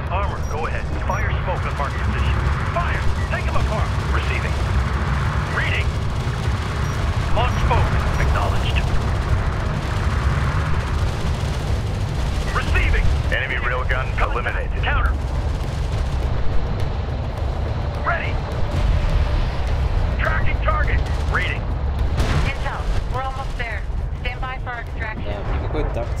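Artillery and gunfire from the real-time strategy game Homeworld: Desert of Kharak form a continuous heavy, rumbling barrage with repeated booms and mechanical clatter, mixed with radio-style voice chatter throughout.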